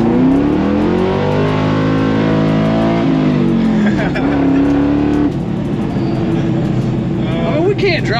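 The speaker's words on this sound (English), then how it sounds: "And that was a rolling burnout too." A Ford Mustang on freshly paved road does a rolling burnout, its engine revving loud and close with shifting pitch and rising, falling roar, while voices talk over it.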